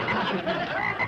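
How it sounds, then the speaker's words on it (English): A frog croaking in a short, steady, raspy burst, close and fairly loud, with no talking over it. "Instead of old man, I got all frog."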